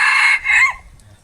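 A rooster crows loudly and close by in one short burst, the call rising and then trailing off, followed by a faint low rumble.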